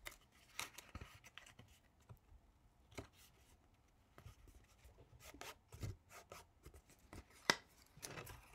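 Quiet, close rubbing, scraping and crinkling of paper being creased and folded into a paper spectrometer for a chemistry lab, with irregular soft strokes and a few sharper crisp snaps.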